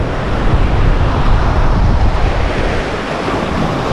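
Ocean waves break and wash steadily on a beach strewn with shells and driftwood, where swimming is banned. The surf roars continuously and fairly loud, with wind buffeting the microphone throughout and no voices.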